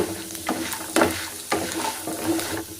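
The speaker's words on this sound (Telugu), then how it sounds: "ఇలా తిప్పుకుంటూ బాగా గా వేయించుకోవాలి" Ingredients for poha, flattened rice mixture, being stirred and fried in a pan, with a soft continuous sizzle broken by several distinct scraping stirs at regular intervals, close and clear.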